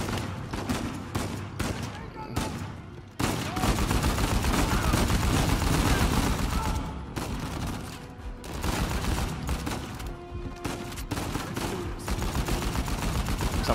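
Sustained gunfire from the Uncharted 4 video game, with dense bursts of automatic weapon fire and shots running almost continuously at high loudness, a brief pause near three seconds, and a voice talking faintly underneath.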